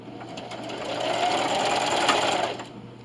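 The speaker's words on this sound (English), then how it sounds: "And then sew all the way down until you hit your pin mark." Sewing machine stitching a self-binding receiving blanket, a close steady whirring hum that ramps up, runs for about two seconds and then winds down.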